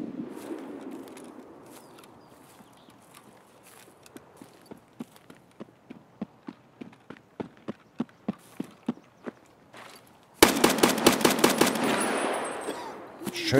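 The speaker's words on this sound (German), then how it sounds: "Es wird geschossen." Rapid bursts of gunfire in the video game Escape From Tarkov crack in a quickening series, then a dense, loud volley erupts near the end.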